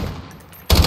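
Gunfire in Call of Duty Modern Warfare on the Crash map in hardcore team deathmatch: a quiet stretch, then a sudden loud close burst of rapid shots at the end.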